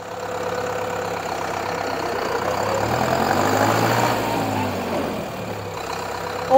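A 2022 Deutz Fahr Profiline 80HP 4WD tractor runs nearby at a steady idle, its low, even engine drone swelling slightly in the middle before a brief sharp sound at the end.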